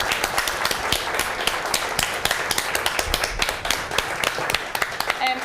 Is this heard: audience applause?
yes